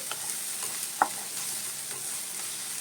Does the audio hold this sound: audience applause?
no